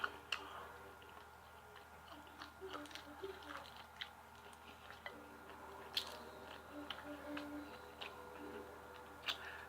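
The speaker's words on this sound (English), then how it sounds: "So if y'all hear me crunching, yes, this chicken is crunchy." Crunchy Walmart fried chicken is bitten and chewed close to the mic in a quiet room, giving soft, irregular crunches and wet chewing clicks throughout.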